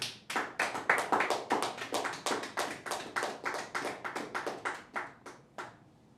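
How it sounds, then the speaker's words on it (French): Church congregation claps in praise of the Lord, a series of about twenty distinct claps in an uneven rhythm, moderately near and fairly faint, with no talking over them, tapering off at the end. "Est-ce que tu peux acclamer le Seigneur?"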